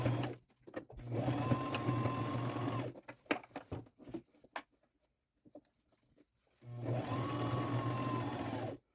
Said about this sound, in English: I'm going to use a zigzag stitch, and I'm lining the presser foot up with the top of my flare piece.